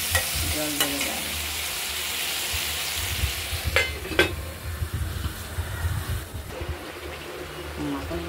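Ridge gourd being stirred in a hot pan with poppy seed paste as it releases water, a wet bubbling sizzle with scraping strokes and a couple of sharp knocks, a voice speaking over part of it.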